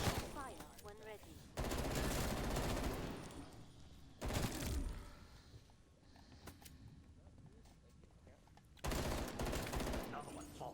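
Bursts of automatic weapon fire in Call of Duty Cold War Zombies, three loud sustained volleys separated by quieter stretches of lighter shots and game sounds, with voices heard in the mix.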